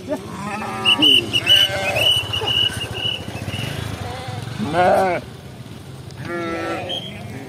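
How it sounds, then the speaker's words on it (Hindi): Several goats bleat in short wavering calls at a roadside food van stop on the Runj route between Mandi and Kullu, some near and loud, with people talking and road noise around them. "इतनी सारी बकरियां।"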